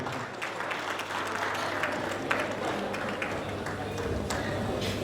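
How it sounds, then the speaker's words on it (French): Church audience applauding a pastor at a 70th birthday celebration, a steady wash of clapping held at an even level throughout, with voices mixed into the crowd noise. "On applaudit pour le pasteur"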